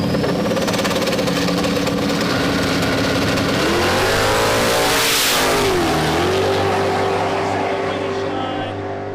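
Drag racing cars, one of them a Mustang, roar down a no-prep strip, with sustained loud engine noise and a rising, falling rev sweep midway as a car passes close, fading toward the end.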